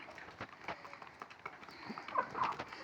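Chickens and roosters clucking on a farm, a steady mix of close, overlapping calls and scratchy barnyard noise that rises a little toward the end.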